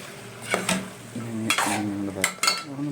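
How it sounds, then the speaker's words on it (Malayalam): Chicken is stirred in a cooking pot with a spoon, several short scraping strokes against the pot over a low background, with a brief bit of faint speech. "ഇതിൽ ചിക്കൻ ഇട്ടു, നല്ലോണം ഇളക്കി കൊടുക്കാം"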